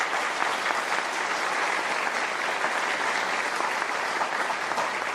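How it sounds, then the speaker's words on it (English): Dense, steady applause from a large crowd at a school National Junior Honor Society induction, sustained at an even loudness throughout. "can we give one more round of applause for Ms. Gutierrez?"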